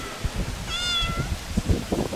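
A single rising-and-falling cat meow, close and clear, with soft rustling and low bumps around it.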